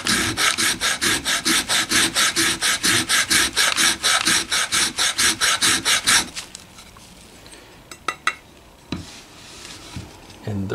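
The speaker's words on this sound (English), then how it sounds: "I've got the fine rasp, and I'm gonna take the edge of a maple board, and I'm gonna run it down the edge." A fine rasp files the edge of a maple board in about two dozen steady, evenly paced scraping strokes, close and loud, then a few scattered knocks and handling sounds.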